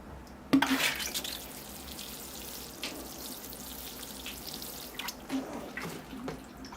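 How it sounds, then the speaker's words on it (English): Water trickles and drips steadily from the drainage holes of a freshly watered bonsai pot, a soft continuous splashing close by with a few louder drops, with no talk over it. "See how it's draining? Oh, it's draining very nicely."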